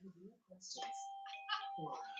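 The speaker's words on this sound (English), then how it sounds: "stop with the bell" A doorbell rings with a sustained tonal chime under ongoing speech indoors, the bright ringing tone holding steady for over a second while a person talks over it.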